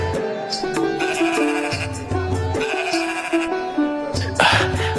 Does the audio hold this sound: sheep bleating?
yes